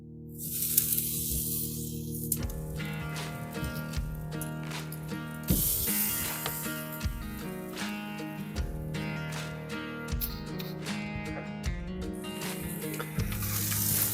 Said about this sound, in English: We give that just a minute to heat up, and then we'll put our pork chops right there.